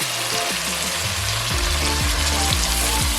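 Fresh fenugreek leaves hit hot oil with fried onions in a pan, setting off a loud, steady sizzle and crackle that holds throughout with some stirring and clinking, and no talk.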